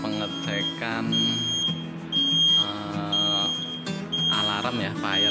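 An IST fire alarm panel indicating a trouble condition emits a repeating high-pitched electronic beep in short, regular pulses while someone talks over it nearby.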